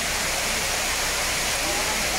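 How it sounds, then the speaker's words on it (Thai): Sai Yok Noi waterfall rushes in a steady, dense broadband roar, close and continuous throughout with no breaks. "นี่นะครับคือน้ำตกไซโยกน้อยนะฮะ"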